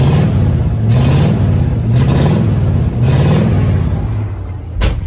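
A Chevrolet C20 squarebody truck engine with a Quadrajet carburetor is revved in several close, loud surges, each rising and easing off, with a steady rumbling idle underneath.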